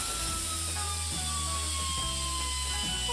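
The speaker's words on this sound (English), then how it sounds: "you can tell that the compressor struggles with keeping the grinder at full speed" Air die grinder running on a Vevor air compressor, a steady high whine close by over a low rumbling motor that dips and recovers as the compressor struggles to hold full speed.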